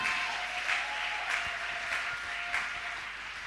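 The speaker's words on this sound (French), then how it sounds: "Acclamons le roi des gloires. Acclamons-le très fort." A church congregation applauds in a sustained, dense wash of clapping that holds steady for a few seconds, with cheering mixed in and no distinct speech.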